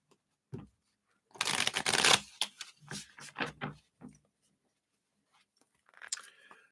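Tarot cards are shuffled by hand in a quiet room: a dense burst of riffling and snapping, then several short taps and card slaps, a pause, and a faint final shuffle.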